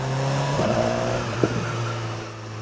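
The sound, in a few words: BMW S1000XR motorcycle engine revving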